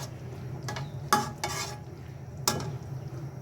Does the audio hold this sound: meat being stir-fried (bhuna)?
yes